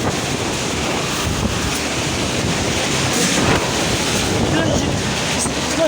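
Strong wind from Typhoon Odette whipping across the coast of Dinagat Island, a loud roaring gusty wind buffeting the microphone, with crashing waves rumbling underneath, continuous and violent with surging gusts.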